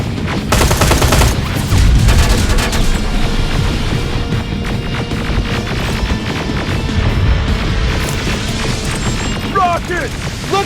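Rapid automatic gunfire with heavy booms in Terminator Resistance, a dense, loud, continuous barrage of bursts and impacts filling the whole stretch.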